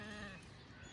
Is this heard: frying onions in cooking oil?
no